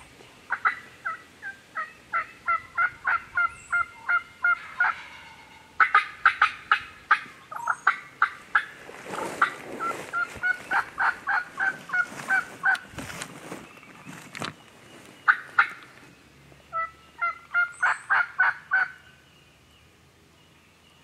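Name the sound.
wild turkey gobbling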